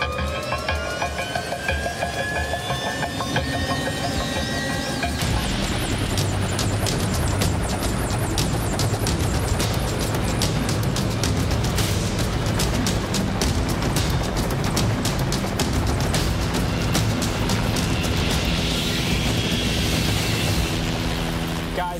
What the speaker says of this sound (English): We got to the helicopter, I'm gonna go up